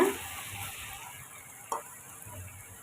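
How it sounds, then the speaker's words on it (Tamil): Vermicelli frying in oil for a homemade mixture tea snack, a steady quiet sizzle with occasional stirring scrapes and one sharp tick partway through. "இப்போ நம்ம மி சேமியாவை வறுத்து எடுத்துக்கலாம் கொஞ்சம் கொஞ்சமாக போடுங்க"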